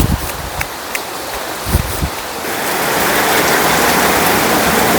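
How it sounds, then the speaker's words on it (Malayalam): Heavy rain falls in a village as a broad, hissing wash that swells louder partway through, with a few scattered knocks early on. "നല്ല മഴയായി"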